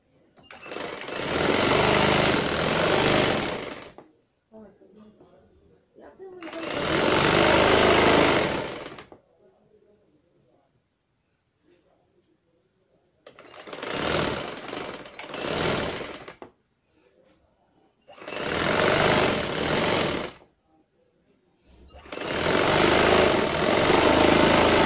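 A sewing machine runs in five separate bursts while double-stitching the seat seam of a pair of trousers, each loud rattling run lasting a couple of seconds with quiet pauses and faint handling sounds between.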